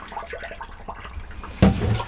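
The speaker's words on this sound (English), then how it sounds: "just drop some into the drain here of the shower" RV antifreeze is poured into the shower drain of a Winnebago Solis 59PX camper van and splashes and gurgles in a short, close burst at the end, after quiet handling sounds.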